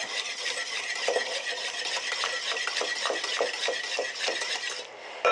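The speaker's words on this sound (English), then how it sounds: "So we've got 4 egg yolks. Going to mix that up." Four egg yolks whisked in a bowl for key lime pie filling, a fast, continuous run of light tapping and swishing strokes that stops near the end.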